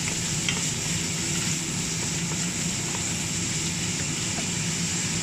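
Cut chicken pieces fry in a pan with a dense, steady sizzle and intermittent stirring scrapes, close and continuous, with faint background noise.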